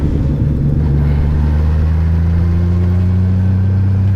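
A modified car engine idles loudly and steadily up close, a deep rumbling drone with a slight rev early on, heard alone without talk.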